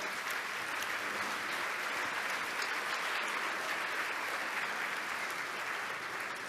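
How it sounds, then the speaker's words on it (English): Steady applause from a large audience at an opening ceremony in Klagenfurt, even and continuous throughout, moderately distant in a big hall. "Please, a big applause."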